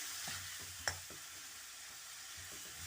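Tomatoes with salt frying in a kadhai for chicken karahi, a soft continuous sizzle under repeated gentle stirring scrapes, one sharper utensil clink standing out, no talking.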